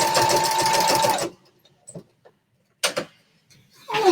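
A sewing machine stitches along a quilt seam, running loud and close for over a second, then stopping, followed by a few short bursts of stitching with quiet gaps between.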